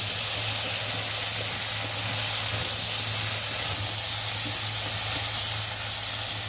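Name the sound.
potatoes frying in a pan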